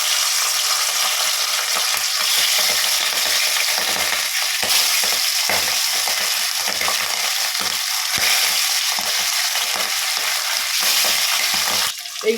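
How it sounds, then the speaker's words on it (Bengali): Pieces of hilsa fish frying in hot, smoking oil, a loud, dense and steady sizzle up close that barely changes, with a brief clatter right at the end. "তেলে ধোঁয়া উঠে গেছে। এবার মাছগুলো একে একে একটু দিয়ে দেব"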